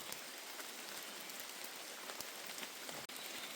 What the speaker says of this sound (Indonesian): Hujannya gimana hujannya? Kacau. Alhamdulillah. Alhamdulillah masih rintik-rintik ya.